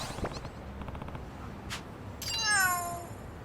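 A cat meows in the video game Lost Judgment: a short rising meow near the end follows some faint clicks and soft game sounds, with no talking.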